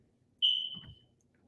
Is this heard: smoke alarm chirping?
yes